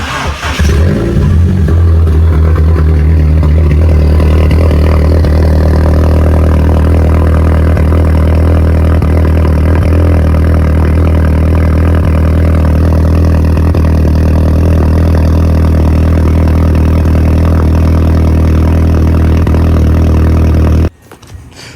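A Volkswagen GTI with a 3-inch catless downpipe and no muffler revs loudly and steadily for about twenty seconds, its deep exhaust drone staying close and strong until it cuts off abruptly near the end.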